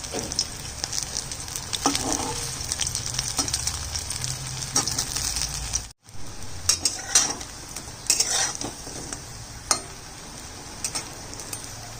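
Round lentil fritters (bora) deep-fry in hot oil with a steady crackling sizzle, broken by occasional clinks of a metal spoon against the pan.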